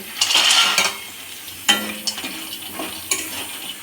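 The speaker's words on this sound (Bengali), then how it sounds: "এবার আমি তেলেতে বড়িগুলো ভেজে নেব" Lentil dumplings (bori) fry in hot oil in a home kitchen, with a soft sizzle under sharp clinks and scrapes of a utensil against the pan, close up.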